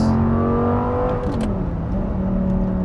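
A 2010 Audi R8 V10 with a gated manual and stock exhaust holds a loud, steady high-revving engine note up close, then dips and climbs again partway through, with no talk.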